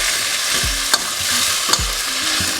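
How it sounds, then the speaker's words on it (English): Chickpeas fry in a pan on a low stove with a steady, close hiss, broken by a couple of sharp scrapes from stirring. No one speaks. "Listen to that sizzle."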